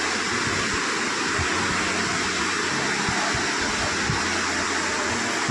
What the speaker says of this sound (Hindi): कितनी ऊंचाई से पानी गिर रहा है ये देखिए।